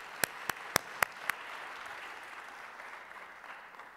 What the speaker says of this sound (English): ask you again for an applause, this time for the GOI Peace Foundation